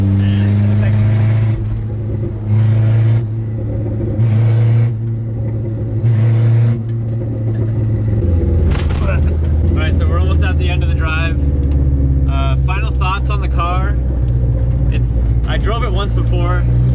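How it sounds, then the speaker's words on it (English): A low, noisy Toyota Corolla engine burbles and rumbles steadily while driving on backroads, with throttle swells early on; a person talks over it for much of the stretch. "it's a blast to drive just because it's like a tin can, and it's noisy and like burbly and fun"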